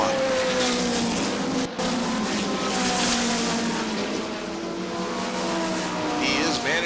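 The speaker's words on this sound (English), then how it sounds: "Brand new engine in the 47 is performing well." Stock car engines race at Beech Ridge Motor Speedway's weekly event, a loud continuous roar with shifting pitch as cars pass, under an announcer talking over the action.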